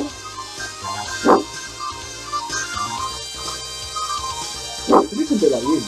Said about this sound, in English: I'm listening to a puppy.